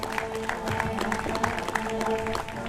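Applause rings out for a men's solo European rowing champion at a coastal and beach sprint championship, a moderate crowd clapping steadily outdoors with faint voices underneath.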